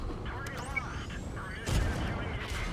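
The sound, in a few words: tank gunfire in a tank battle video game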